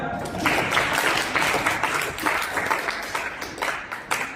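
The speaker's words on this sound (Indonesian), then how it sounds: "Ya, tepuk tangan." Audience applause in a dental education lecture hall, a steady wash of many hands clapping at moderate loudness with no talk over it, continuing for several seconds.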